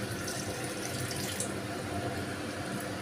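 Warm water pours steadily into chicken cooking in a clay pot, a continuous close splashing rush that holds even for about three seconds with no voices.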